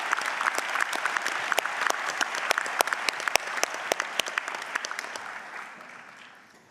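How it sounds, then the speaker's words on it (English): An audience at a university graduation ceremony in Auckland applauds a speaker, crisp individual claps standing out within a sustained round that gradually fades away toward the end. "would you give another warm round of applause to Pete Young, please?"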